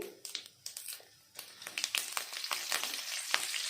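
Cumin, mustard seeds and curry leaves temper in a little hot oil, crackling and spitting in quick, irregular pops over a continuous close sizzle.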